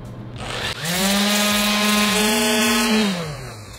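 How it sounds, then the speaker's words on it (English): A power sander with 60 grit paper runs on a 3D-printed knee part for an Iron Man suit, a loud buzzing whir that ramps up quickly, holds with slight pitch dips under medium pressure, then winds down. "Starting with a 60 grit, I'm gonna go medium pressure, a little more than the weight of the sander"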